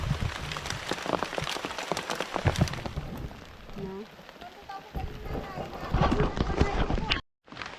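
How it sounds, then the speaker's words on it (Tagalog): Rain falling outdoors in a village field, a dense steady patter on the ground and surfaces throughout, with voices speaking over it and a brief cut near the end. "at hindi pa huminto yung ulan"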